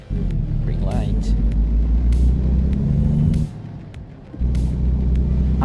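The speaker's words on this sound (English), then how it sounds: "I'm driving a Volvo BNL 2014. The truck." Low, steady engine drone of a 2014 Volvo truck in American Truck Simulator, rumbling continuously with a brief drop in level midway and sharp air-brake hisses and clicks over it.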